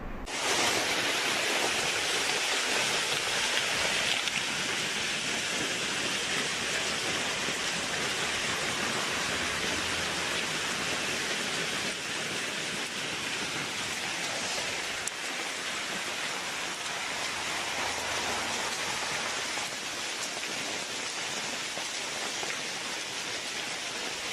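Heavy rain pouring down during a rainstorm, a dense, steady hiss of falling water that stays loud throughout with no voices.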